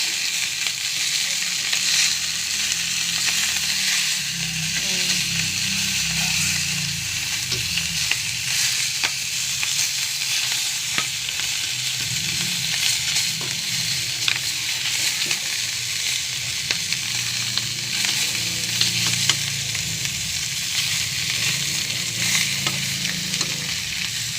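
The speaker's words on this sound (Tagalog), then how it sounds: "Bahagyang prito lang to" Steady, close sizzling of food frying in a pan, with occasional scraping and stirring clicks, continuing throughout without talk.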